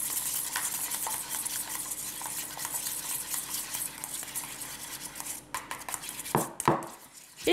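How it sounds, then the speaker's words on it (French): A spoon stirs a mixture of onion, oregano, sweet pepper, thyme and rosemary in a bowl, with repeated scraping and clinking scrapes close by, ending in a few sharper knocks against the dish. "hop, on remélange un peu."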